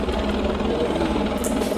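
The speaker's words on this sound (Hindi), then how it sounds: "ये देखो हेलीकॉप्टर पता नहीं को रेस्क्यू कर रहा है या कुछ लोगों को कहीं से लेके आ रहा है" A helicopter on a rope rescue flight near Mürren in Switzerland gives off a steady, loud, broadband rotor and engine roar that stays even throughout the short stretch, with no speech over it.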